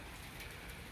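Steady rain falls outdoors at a house building site, a faint, even hiss of drops on surfaces lasting the whole brief moment without any voices.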